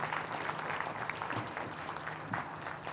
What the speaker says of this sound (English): A great round of applause for him.